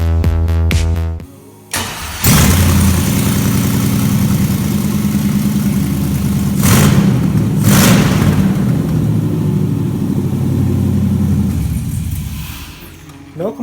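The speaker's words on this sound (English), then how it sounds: "it's now time to test fire this engine" A Cherokee Chief's LS engine cranks briefly on its first test start, catches and roars to life, then settles into a loud, steady idle with rumbling low tones and occasional revs.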